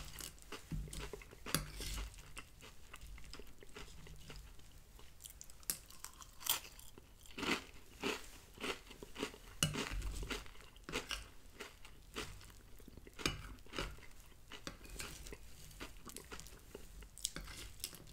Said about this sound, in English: This is so crispy, so crunchy, even with a little milk in it.